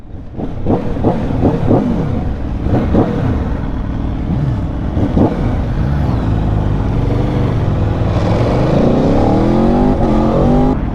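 Aprilia Tuono V4 motorcycle engine revving hard and accelerating, with loud repeated throttle blips early on, then a sustained rising roar through the gears, close and continuous.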